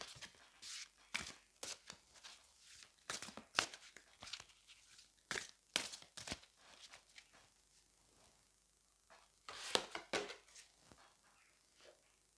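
Tarot cards are shuffled and drawn from a deck in a series of quiet, close, crisp rustles and flicks, with pauses between them.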